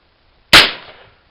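A single loud black powder gunshot aimed at a soda can, a sharp close crack with a short rough tail that dies away within about half a second.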